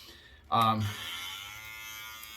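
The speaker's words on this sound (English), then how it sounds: "So this is the machine running" Cocco Hyper Veloce Pro hair clippers switching on with a sharp buzzing start, then running at a steady, softer hum that carries on alone after the initial burst.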